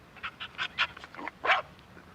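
A real dog's recorded barking: a quick run of about eight short, fairly close barks and yips at an even pace, then a brief pause and one louder closing bark.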